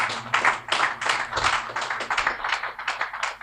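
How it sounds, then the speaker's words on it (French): A small audience applauding to welcome a speaker at an evening event, a sparse, uneven patter of nearby clapping hands lasting a few seconds. "Non, ça mérite des applaudissements, s'il vous plaît"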